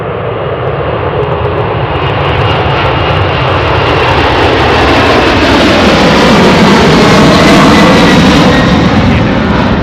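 Piston engines of a Douglas DC-6 airliner at Anchorage, one inboard engine smoking, make a loud, steady, rough drone that swells slightly as the aircraft runs close by.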